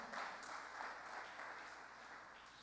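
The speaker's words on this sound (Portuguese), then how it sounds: "As palmas para Ele." Church congregation claps together in a soft, even wash of applause at moderate distance, steady for under three seconds.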